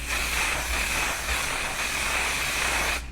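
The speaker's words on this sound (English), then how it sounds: "and then the one size setting spray." A setting spray hisses steadily onto a face close to the microphone for about three seconds, then cuts off abruptly.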